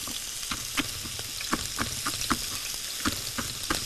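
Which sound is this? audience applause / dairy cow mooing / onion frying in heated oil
onion frying in heated oil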